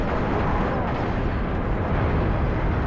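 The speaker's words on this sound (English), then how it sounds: "I'm gonna just grenade out here." A grenade blast in the video game Halo Reach, played co-op on PC on Legendary, erupts as a loud, sustained broadband roar that fills the whole stretch without letup, with no voices over it.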